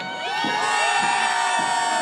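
A St. Patrick's Day parade crowd in Greater Hartford cheers and whoops together, a sustained loud roar of many voices with high shrill shouts, swelling slightly and holding steady.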